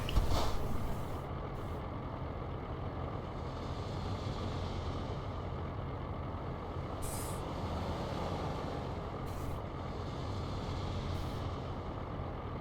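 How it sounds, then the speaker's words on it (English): Heavy traffic rumbling steadily along Interstate 39 on an overpass directly above, a continuous low roar with occasional louder passing trucks and faint hissing swells, with no talk. "You hear I-39 up above us. That's the traffic on I-39."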